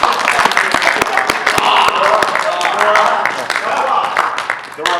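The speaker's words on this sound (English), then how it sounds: "You can clap." An audience claps in a dense, continuous patter of many hands, with crowd murmur and voices mixed in throughout.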